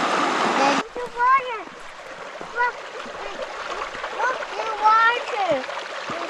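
Water flows and splashes in a mountain stream near a waterfall on a family hike in Red Lodge, Montana, a steady rushing wash running throughout while a voice and other voices chatter over it.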